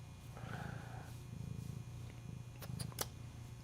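Charlie, a big house cat, purrs softly in a low, steady rumbling rhythm close by, with faint background noise and a couple of brief clicks near the end.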